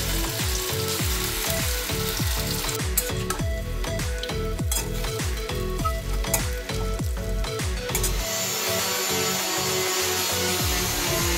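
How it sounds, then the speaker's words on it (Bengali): Vegetable fritters (bora) deep-fry in hot oil in a wok, giving a dense, steady sizzle and crackle with repeated scraping and stirring knocks throughout, close and fairly loud, with no talking. "এবার তেলটা গরম হয়ে গেছে, এর মধ্যে এক এক করে সব বড়াগুলো দিয়ে দেবো, দিয়ে লাল লাল করে এবার সব ভেজে নেব।"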